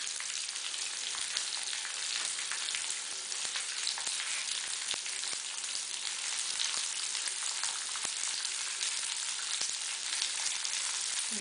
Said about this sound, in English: 1 spoon of small onion. So this has to be fried.